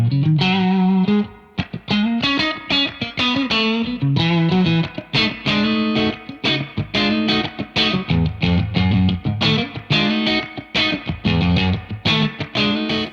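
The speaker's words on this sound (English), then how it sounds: "We can change the decay, which is obviously a lot for a spring" Electric guitar played through a Keeley Hydra pedal set to spring reverb with a very long decay, chords ringing out loud and washy with tails blurring between strums.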